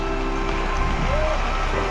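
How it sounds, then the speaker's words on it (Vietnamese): Rain falling outdoors, a steady dense hiss of drops on surfaces, fairly loud and continuous, with a faint tone and some background noise beneath it. "Trời mưa này."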